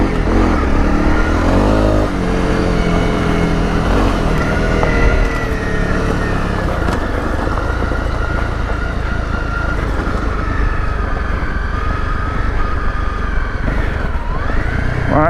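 A Honda CRF 250 Rally motorcycle engine runs while being ridden, a loud close single-cylinder drone that revs up and settles, with shifting pitch and a brief rev toward the end.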